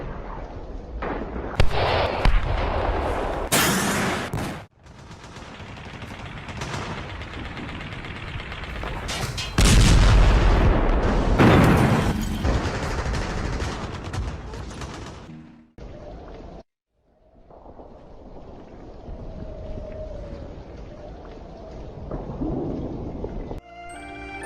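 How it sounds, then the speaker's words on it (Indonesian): Battle reenactment in a staged drama of the Ambarawa fight, with loud, dense bursts of gunfire and grenade blasts crowding one another, a sharp heavy explosion near the middle, then a brief lull and quieter rumbling activity. "Desingan peluru meniupkan suasana, ditambah lemparan granat yang bertubi-tubi."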